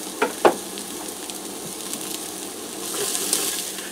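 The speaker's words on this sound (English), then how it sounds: "I'm going to saute this just for a minute or two just to get it softened up" Diced onion sizzles and fries in a hot pressure cooker on the sauté setting, a steady close crackle with a couple of sharp stirring clanks near the start.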